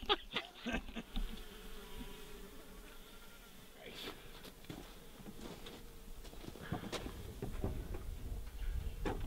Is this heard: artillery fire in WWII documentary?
no